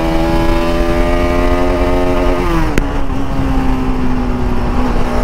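A Bajaj RS200 BS3 motorcycle engine roars loudly and steadily up close, its revving pitch sliding down mid-clip before settling into a strong sustained drone with no talk over it.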